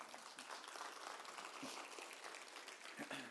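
Soft applause from a gathered audience, a fairly quiet, even patter of many hands clapping for a few seconds without speech.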